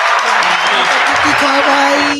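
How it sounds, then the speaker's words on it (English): Audience applause at a live comedy show, dense steady clapping from a crowd that stays loud the whole way through, with a voice speaking over it. "Let's clap it up for that."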